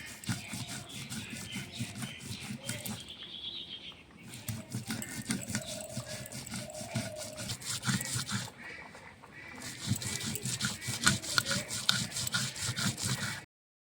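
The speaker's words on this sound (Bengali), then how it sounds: "ডালটা বেটে নিয়েছি, এরকম করে এগুলো বেটে নেব" Soaked lentils and green chillies are ground into a paste on a stone, giving repeated scraping and rubbing strokes in bursts with short pauses between them, fairly quiet and close.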